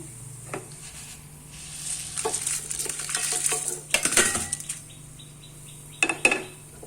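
Ingredients for moringa leaf powder are roasted in a pan, heard as a spoon scraping and clinking against the metal in irregular bursts with a faint sizzle underneath, close by and without talk.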